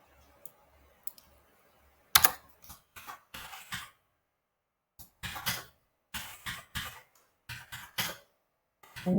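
Bursts of fast clicky keystrokes on a computer keyboard while code is typed, coming in uneven clusters with short pauses between them, close and fairly loud in an otherwise quiet room.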